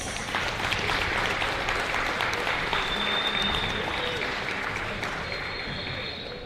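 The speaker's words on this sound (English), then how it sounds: "Give another round of applause for our Lady Hawks." Sustained applause from a high school basketball crowd honoring the Lady Hawks girls' team, steady and dense throughout, tapering slightly at the end.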